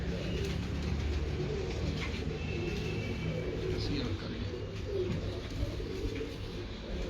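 Pigeons in a loft coo in a continuous low murmur, close and steady, while someone talks quietly in the background.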